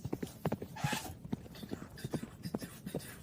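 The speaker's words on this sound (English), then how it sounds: "Listen, I hear horses." Hooves clip-clop in a steady, quick rhythm, a horse trotting fairly close, with a brief rustle partway through.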